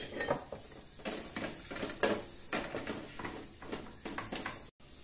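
Garlic going into hot olive oil in a pan, heard as a steady close sizzle broken by repeated stirring scrapes and light utensil knocks against the pan, with no talking.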